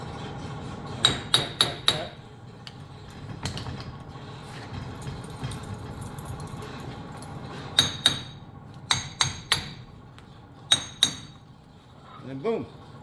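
A hammer taps a broken screwdriver used as a spacer to drive out a Dana 60 axle spindle, making sharp metallic clinks in quick bursts of three or four, separated by pauses over a quiet low workshop background.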